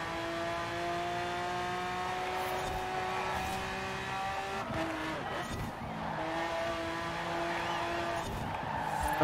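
A Bugatti Chiron race car in the Forza Horizon 4 video game skids with long tire squeal over a steady high engine whine, continuous and loud throughout, with brief revs and no talk.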